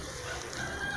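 Chickens clucking at a farm pasture, a steady mix of hen calls over a continuous outdoor background hum.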